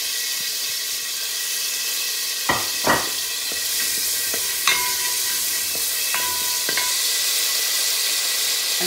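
Cumin seeds sizzle in hot butter in a heated pot for mutton korma, a steady crackling hiss with several sharp clinks of a utensil against the pot.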